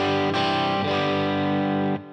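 Electric guitar rings out with heavy reverb and a touch of delay, a sustained distorted chord held for about two seconds with a re-strike partway through, then cut off as the tail fades.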